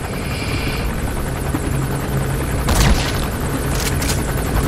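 A helicopter in Metal Gear Solid 5: The Phantom Pain drones loud and steady throughout, with a sharp burst of noise midway and another short one near the end, and no talk.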